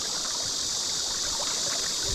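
Steady rushing of a shallow stream riffle on the Jecheoncheon in Jecheon, South Korea, a continuous bright hiss with no voices, constant and fairly close.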